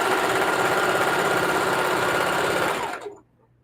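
A sewing machine runs fast and steadily, stitching pillowcase seams in one continuous close-up burst before stopping abruptly near the end.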